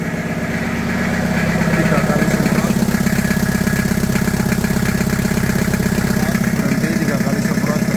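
A Isuzu Panther 2300cc diesel engine idles steadily at a raised, even 1500 rpm with a constant low rumble, while someone talks over it.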